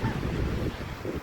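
Winter sea waves roll onto a Jeju beach while strong wind buffets the microphone, a brief, loud and rough wash of surf and gusts with no voices.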